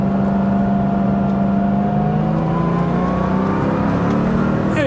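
A 1980 Porsche 911 SC Weissach engine revving toward redline, heard as a loud, continuous engine drone whose pitch climbs gradually throughout.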